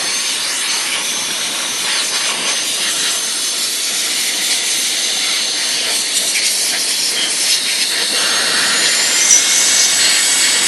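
A steady blast of air blows dust out of a Janome M7 sewing machine, a loud, even hiss that continues for the whole stretch and swells slightly near the end.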